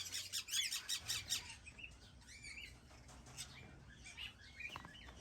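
Half-moon conures in an aviary, a quick burst of shrill chirps and squawks near the start, then scattered sharper calls and some wing flutter, fairly faint against a quiet background.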